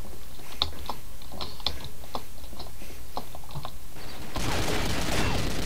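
Rapid burst fire from an M21E machine gun in the Combat Arms shooter game, several quick clusters of crisp shots in a steady rhythm, then a louder noisy burst near the end.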